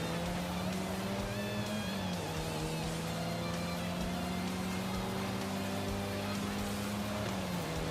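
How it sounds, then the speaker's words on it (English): A supercharged Ford Puma in Forza Horizon 5 drives under steady throttle: a thin supercharger whine rides above a continuous engine drone, loud and close, with pitch shifts as the revs rise and gears change. "I have a supercharger on my Puma, so I'm getting little supercharger whines"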